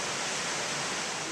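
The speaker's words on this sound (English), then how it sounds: "there's a little waterfall and a river." A small waterfall and river in a gorge near Mystra in Greece's Peloponnese give a steady, even hiss of rushing water, soft and distant, unbroken for the whole moment.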